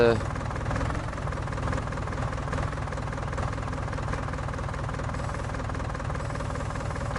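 A small tractor engine in Farming Simulator 19 drones steadily at low pitch throughout, a continuous mechanical rumble with a voice talking over it.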